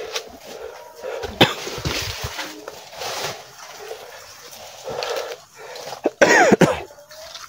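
Several coughs and throat-clearing sounds, fairly close, with bursts spread across the clip and a cluster of harsher coughs near the end.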